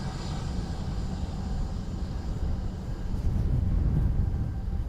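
An ATR turboprop arriving at Dublin Airport from Glasgow gives a steady, fairly loud low engine rumble that swells slightly toward the end, with no talk.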